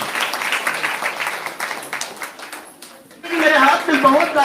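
A congregation at a Thursday prayer meeting applauds in bursts, dense clapping mixed with voices, easing off briefly and then swelling again.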